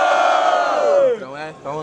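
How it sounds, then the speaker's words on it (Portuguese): A crowd at a student rap battle event roars, cheering and shouting together in a loud, sustained burst that fades, followed by a shorter swell of voices. "Muito barulhos pra quem gostou das rimas de Cauã"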